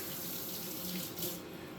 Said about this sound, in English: we are going to add some water as well